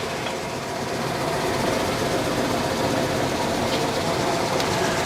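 A 50-ton, 8-foot Cincinnati CNC press brake, model M3-50, runs with a steady, even mechanical hum and whir, close and constant throughout with no talking.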